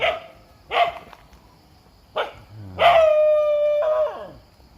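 A dog barks in a few sharp, loud bursts and then breaks into a long, drawn-out howl near the end, close by and carrying on its own with no talk.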